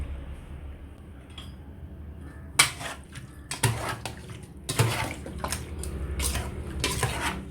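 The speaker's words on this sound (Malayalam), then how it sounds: "1 ഗ്ലാസ് വെള്ളം കൂടെ ഒഴിച്ച് ചിക്കൻ" Chicken being stirred with water, spices and ginger-garlic paste in a pot: quiet at first, then repeated close clinks and scrapes of a spoon against the pot with sloshing liquid, continuing steadily to the end.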